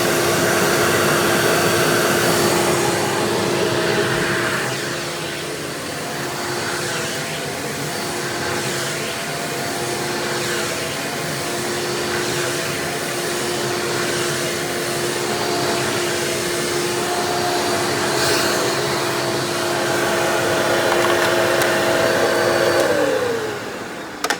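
A Hoover Dimension Supreme U5223-930 upright vacuum runs steadily with its upholstery tool attached, a loud continuous whine and airy roar that holds constant for the whole stretch, with no voices.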